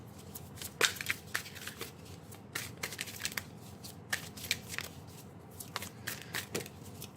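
Hands shuffle a deck of tarot cards up close, with quick irregular riffles and soft slaps in uneven bursts over a quiet background hum; nobody speaks.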